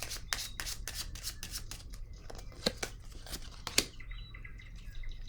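A tarot deck is handled nearby as cards are shuffled and drawn, making quick papery riffles, flicks and slaps in a brisk run, then a couple of sharper snaps and softer rustling over a low background hum.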